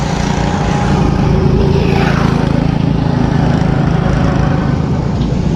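Several mod karts race around a track in a CBR Cup event, their small engines blending into a loud, continuous droning whine with shifting pitch as they pass close by.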